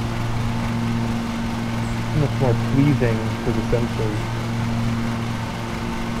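A running lawn mower drones steadily in the background, its engine hum constant throughout while someone talks over it.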